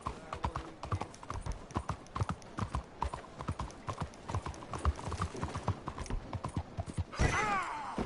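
A horse walks with steady, close clip-clopping hooves throughout, with a short whinny-like sound near the end and a bit of background chatter.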